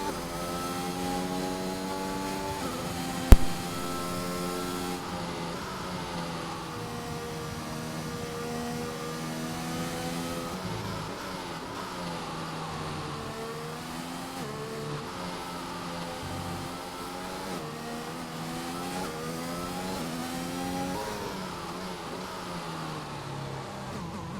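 A Mercedes race car in a racing video game on its out lap at the Brazil GP, its engine droning and rising and falling through the gears in a continuous steady tone, with one sharp click early on.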